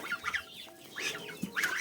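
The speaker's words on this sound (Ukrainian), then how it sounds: "Ось так мої курята, хламони сидять." Young chickens cluck and chirp inside a barn, a few close, soft bursts of clucking with short pauses between them and no talk.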